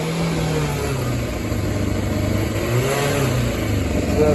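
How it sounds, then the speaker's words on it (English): Suzuki GSX600F second-generation K6 motorcycle engine running roughly and unevenly, its revs wavering and rising in uneven surges, loud and close with no talk. "So the bike's still running quite hectical."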